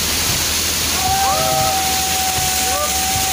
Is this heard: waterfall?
yes